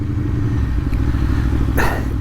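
An Aprilia Tuono V4 1100 Factory motorcycle's V4 engine rumbles loudly and steadily up close with a deep, throbbing low tone, and a brief higher-pitched burst near the end.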